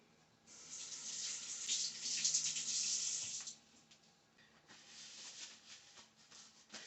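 Tap water runs while hands are washed in a kitchen before cutting chicken, a hissing stream for about three seconds, then a softer, splashier flow.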